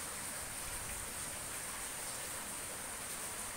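Steady rain pours down during a storm with wind, thunder, flooding and a power outage, producing an even, dense hiss that holds constant throughout with no voices.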